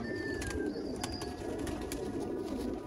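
Low, steady cooing from a group of Sialkoti pigeons fills the space, mid-distance, while thin high bird whistles and light clicks drift over it.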